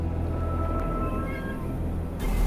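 A cat meows several times inside a room, the calls faint to moderate over a steady low background hum, with a louder rumble rising near the end.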